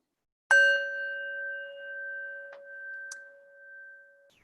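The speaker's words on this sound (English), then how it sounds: "I'm going to ring the bell" A single clear bell strike rings out and sustains a long, pure, slowly fading tone, with a couple of faint small clicks along the way.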